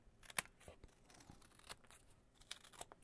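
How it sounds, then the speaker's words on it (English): Scissors cut through paper in a series of irregular crisp snips and crinkles, close by with no talking. "I'll go ahead and just use my scissors to cut that."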